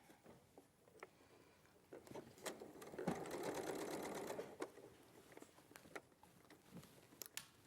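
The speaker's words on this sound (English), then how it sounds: "because it is a top stitch, I'll just increase the length of my stitch" Sewing machine top stitching with the stitch length raised to 3, a quiet, close, steady mechanical whirr for a couple of seconds, set among faint clicks and handling taps of fabric and pins.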